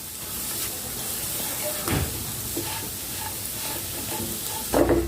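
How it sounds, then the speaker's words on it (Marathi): Moong dal roasting in ghee for halwa gives a steady close sizzle, with repeated scraping stirs of a spoon through the pan. "आपल्याला हे बदामी कलरचं होईस्तवर छान भाजून घ्यायचं आहे लागेल तसं थोडं थोडं तूप घालायचं आहे यात"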